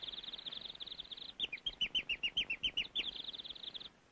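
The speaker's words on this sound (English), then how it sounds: "Now watch the birds." Birds chirping in a 1930 recording, a rapid run of bright, high tweets in quick even succession, loud and close over faint background noise, with no talking.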